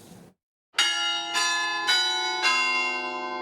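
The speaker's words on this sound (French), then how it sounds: "Toutes les heures et demi-heures, sauf la nuit bien sûr, le carillon sonne à la Plaine des Palmistes." Church carillon bells at Plaine des Palmistes ring out after a brief silence, four bright, resonant strikes about half a second apart whose long ringing tones overlap and slowly fade.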